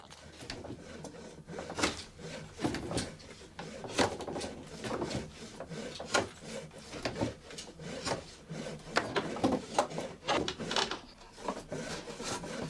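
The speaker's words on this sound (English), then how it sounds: "With the drawknife, he sharpens the handle's upper end." A drawknife shaves the upper end of a wooden rake handle held on a shaving horse, giving close, irregular rasping strokes in quick succession with short pauses between pulls.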